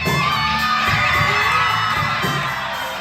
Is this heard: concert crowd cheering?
yes